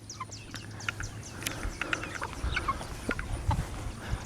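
Rhode Island Red chickens gather at a waterer on a homestead poultry setup, giving soft clucks and short calls amid scattered pecks and clinks, close and moderately quiet with steady farmyard background.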